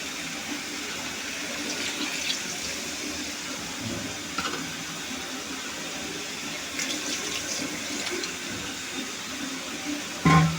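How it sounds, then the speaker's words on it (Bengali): Water pours into a pot of spicy meat that is cooking, a soft running splash that holds steady for about ten seconds and ends in a brief louder clatter. "এখন জল দিয়ে দেব।"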